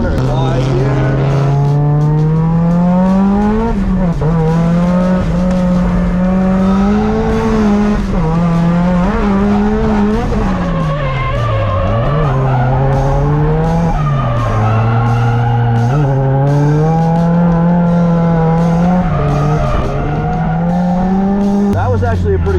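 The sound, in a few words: car drifting with tire squeal at Meihan track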